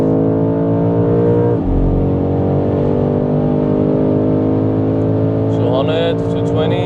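A 2025 BMW M5 Touring G99 pulls hard on the Autobahn, its engine note rising steadily in pitch as it accelerates, loud and close from inside the cabin, with a voice speaking over it.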